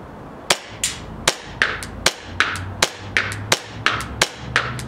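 Airsoft pistol fitted with a Maple Leaf hop-up firing BBs at the bottom of a table, a steady series of sharp, close snapping shots roughly every half second, alone without talk.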